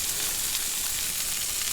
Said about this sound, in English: The potato sizzles, you place them into the pan.